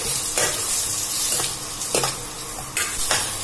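Chopped onion frying in a pan for egg biryani, a steady broadband sizzle with several sharp stirring scrapes of a utensil against the pan at irregular intervals, close and fairly loud.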